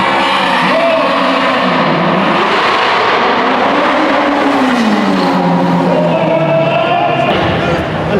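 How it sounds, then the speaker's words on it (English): BMW M1000RR superbike making a sprint run in a tight indoor arena at a motorcycle show, loud continuous engine roar with rising and falling revs, crowd noise and a voice mixed in. "So next time we've got Peter Hickman's BMW M1000RR."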